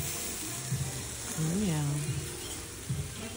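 Alpaca meat sizzles steadily in a pan on a hot stove, a continuous close frying hiss with a man's brief spoken remark over it.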